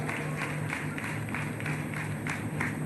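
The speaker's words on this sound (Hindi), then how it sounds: "एक बार जोरदार तालियों से स्वागत कीजिए पिताजी महाराज की वाणियों का।" Audience applause at a religious gathering honoring Pita Maharaj, a steady wash of many hands clapping with crowd noise, continuous and fairly even for a few seconds.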